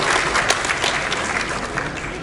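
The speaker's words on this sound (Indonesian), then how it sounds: "Tepuk tangan untuk kita semua" Applause from a seminar audience at a regional banking association meeting in Bali, a dense continuous clatter of clapping hands lasting a couple of seconds, fairly loud and steady throughout.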